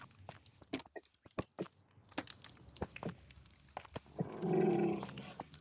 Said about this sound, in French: Pourquoi les loups, les chiens grognent?